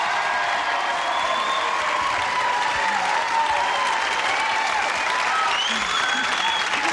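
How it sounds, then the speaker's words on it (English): A game-show studio audience applauds steadily and loudly for the two civilian contestants, a dense wash of clapping that holds at an even level from start to finish. "Would you join me in a little applause for our two civilian contestants here"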